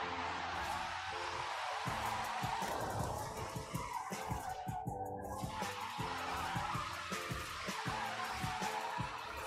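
A car drifting in the racing game Forza Horizon 5, with a revving engine and sustained tire squeal that rises and falls through a long slide.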